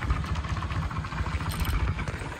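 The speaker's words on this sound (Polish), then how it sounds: "Ja motorkiem się przemieszczam po górku. On tak fajnie zapala." A small motorbike engine runs close by with a steady, rapid low putter and a light mechanical clatter, heard alone without talk.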